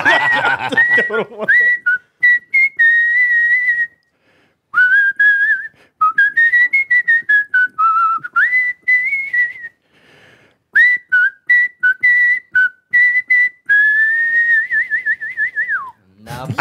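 Someone whistles a lively melody at a talent show in bright, clear phrases separated by short pauses, loud and close, with a brief voice at the start.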